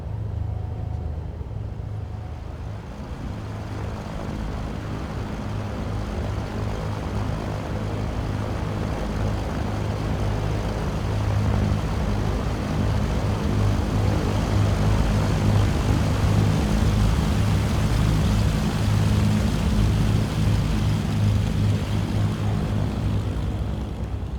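Twin propeller engines of a Cessna 414 in Microsoft Flight Simulator spool up for takeoff on runway 25, a steady loud droning roar that builds after a few seconds and holds through the run.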